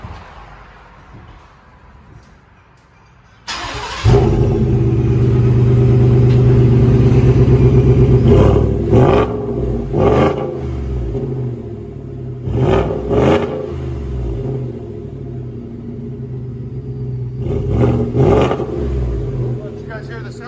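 A Ford F-150 5.0 Coyote V8 with a side-exit dual-tip exhaust idles, then roars into a loud, sustained rumble with repeated sharp revs blipping up and down, close and deep.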